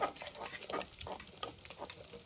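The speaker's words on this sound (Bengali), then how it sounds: "ডিমটা ঝুরি করে ভুজিয়ার মতো ভেজে নেব, ছোট ছোট দানা দানা, একটু কড়া করে ভাজতে হবে" Beaten egg scrambled into small crumbly bits and fried crisp in a pan for egg khichuri, a soft continuous sizzle with scraping stirring strokes, heard alone and fairly quiet.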